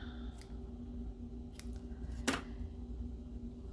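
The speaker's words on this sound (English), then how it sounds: "Get my scissors out." A pair of scissors snipping through paper and cardstock during a papercraft project, with a few faint cuts before one loud, sharp close-up snip, over a low steady hum.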